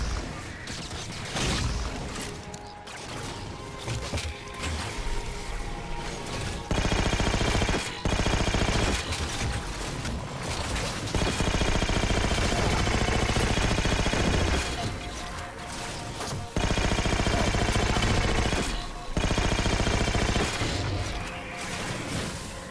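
Weapon fire in the shooter game Halo, rapid automatic bursts and booming shots in several loud volleys separated by brief pauses, with bits of clatter and impact noise mixed in.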